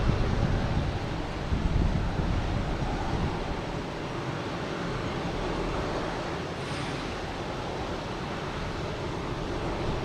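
Gusty wind at Boston Logan Airport, a continuous broadband rush buffeting the microphone, strongest at the start and then holding steady, with no talking.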